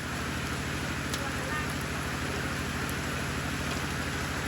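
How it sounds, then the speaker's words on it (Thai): Steady rain falls over rice paddies in rural Thailand, a dense continuous hiss with a low rumbling undertone, close and constant throughout. "ตอนนี้ก็ฝนตกลิลิน"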